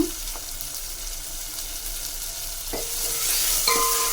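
Drumstick and tomato curry stirred in a frying pan, a low steady simmer with a few scraping strokes of the spoon and a sizzle that grows a little louder toward the end.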